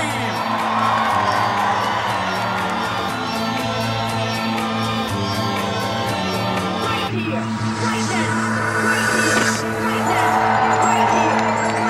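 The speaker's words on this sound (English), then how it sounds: "Let's have a massive cheer as the flame exchanges." A large outdoor crowd cheers, whoops and shouts continuously over loud music as the Paralympic Flame is exchanged at a celebration in Aylesbury, the noise swelling again near the end.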